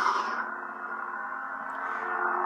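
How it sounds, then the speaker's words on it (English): A custom Artemis 2.0 lightsaber with a blue blade ignites with a brief bright burst, then settles into a steady, loud, classic tonal hum that holds throughout. "It's a crisp and powerful ignition sound, relatively classic sounding hum."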